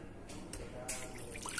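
A cup of water poured into a pan while making latik, the coconut-milk curd topping for suman, with soft trickling and splashing spread across a short stretch at moderate volume.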